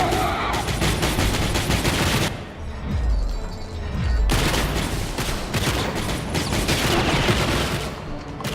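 Dense automatic gunfire and rapid shooting bursts from the video game Assault on Dark Athena, loud and nearly continuous with a brief lull partway through, booming impacts mixed in.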